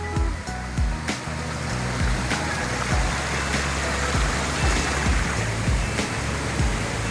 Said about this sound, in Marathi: समोरच सुंदर असा धबधबा आहे